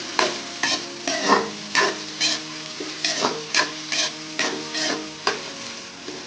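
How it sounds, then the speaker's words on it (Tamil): Grated ginger sautéed in a pan for upma, with rhythmic scraping strokes of a spatula against the pan about once or twice a second over a soft sizzle, close and clear, no voices. "இஞ்சி போட்டுக்கலாம். நல்லா வதக்கி விட்டுக்கலாம்."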